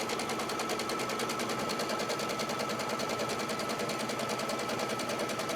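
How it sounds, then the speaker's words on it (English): An embroidery machine stitches a box onto bare stabilizer with no fabric, a rapid, even mechanical rattle running continuously and close without pause. "it's going to stitch a box on the stabilizer by itself"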